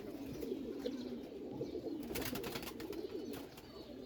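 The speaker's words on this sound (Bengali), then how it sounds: "এগুলা জেলি চোখের কবুতর বলে নাকি ভাই" Jelly-eye pigeons coo in a steady, low, throaty murmur close at hand, continuous throughout, with a few faint clicks and no talking.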